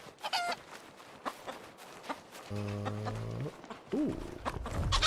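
Chicken clucks and short bursts of fowl calls in the video game RuneScape: Dragonwilds, fairly close, with a clatter of footsteps and a brief synthetic tone in between.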